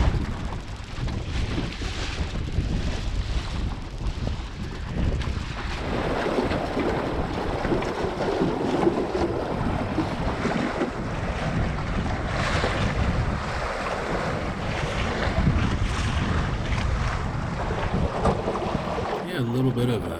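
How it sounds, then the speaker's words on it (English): Steady broadband wind and water rush on a sailboat out on Lake Erie, a constant close roar of breeze across the microphone with waves washing against the hull throughout, no talk. "wind's shifting around a little to the north and picking up just a bit"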